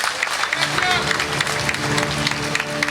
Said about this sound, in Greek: χειροκροτήστε παρακαλώ πολύ δυνατά την Κάτια την Μπάτζιου